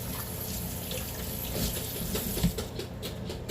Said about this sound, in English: So let me rinse my hands briefly.